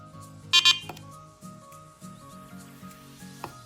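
A BETAFPV HexaCharger Pro 1S charger gives two short, sharp, high-pitched beeps close to the mic, followed by quieter low hums and faint clicks.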